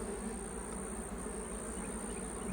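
Honey bees hum steadily around an open beehive being split on a calm, sunny day, a dense continuous drone with no talking.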